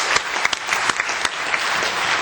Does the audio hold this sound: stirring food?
no